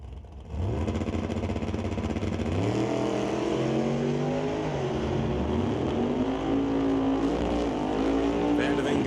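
Two drag racing cars, the A&A Just Mechanical Pontiac and the Murphy's Law 1968 Firebird, launch at a door-slammer drag race. Their engines roar loudly and continuously, pitch climbing through the gears as they accelerate.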